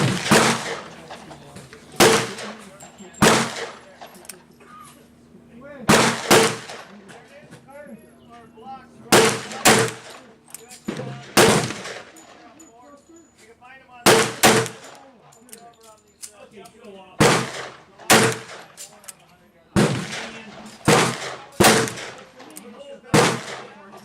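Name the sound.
35 Remington bullets fired from a .38 Special gun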